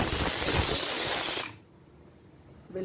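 A pressure cooker cooking dal and rice lets out a loud, steady hiss of escaping steam from its whistle for about a second and a half, then cuts off sharply into near silence.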